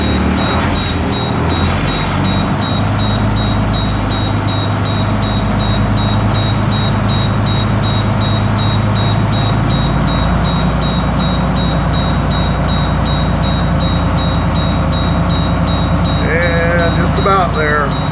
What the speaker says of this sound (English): the beeping will stop